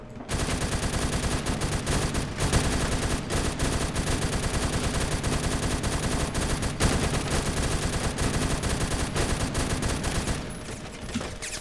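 Automatic gunfire rattles almost nonstop in the Roblox shooter Phantom Forces, a loud, close, rapid stream of rounds that runs for many seconds and eases off at the end.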